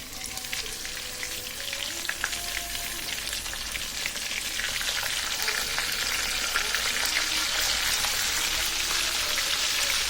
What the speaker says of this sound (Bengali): আমি কড়াইতে তেল দিয়ে দিছি মাছের মাথাগুলো ভেজে নেওয়ার জন্য